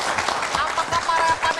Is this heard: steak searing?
no